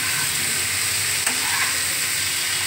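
Fish fries in a pan with a loud, steady sizzle, broken by a single brief stir or clink partway through.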